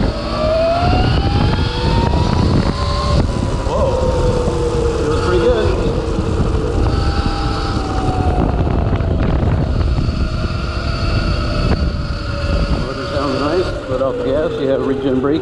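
Electric motor whine from a converted 2014 YZ250F dirt bike with a QS 138 motor and Votol controller climbing uphill, steady rising and falling tones over wind and ground rumble throughout, with a rider talking over it.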